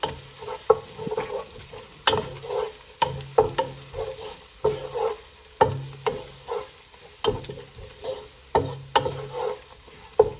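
Mutton masala with crushed pepper sautéed in a pan: repeated rhythmic scraping stirs about once a second over a soft sizzle, close and clear, with no talking.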